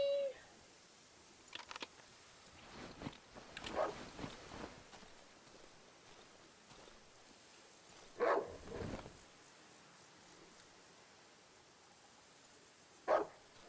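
Several dogs barking inside a video game, scattered short bursts at moderate distance with quieter gaps between them and footstep-like sounds in the background, with no talking.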